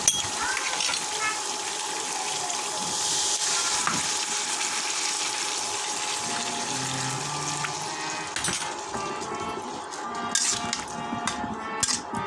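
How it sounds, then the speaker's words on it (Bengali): Broth poured into a prawn curry with vegetable stalks frying in a pan: a steady liquid splash and hiss over sizzling oil, fairly faint and continuous, with a voice talking faintly at times. "আমরা এখন ঝোল দিয়ে দেবো।"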